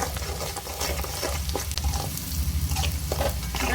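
Onions browning with salt in a pan for North Karnataka red chutney give a close, continuous sizzle, broken by scraping stirs of a spoon and a few soft knocks, with no talking.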